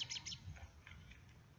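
An American robin squawks from a bird feeding pile outdoors, its short calls faint and distant against a quiet background.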